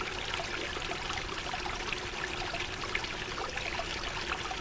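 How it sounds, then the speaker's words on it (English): A small solar-powered waterfall spills into a garden pond, giving a steady close trickling and splashing wash with no pauses and no voices. "Here is my waterfall."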